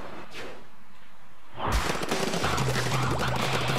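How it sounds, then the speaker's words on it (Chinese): A blaster weapon fires in Splatoon 2: after a quiet, low stretch, a sudden loud burst of dense blasts breaks out, followed by sustained busy gameplay noise with steady tones underneath. "爆裂枪要出动了。"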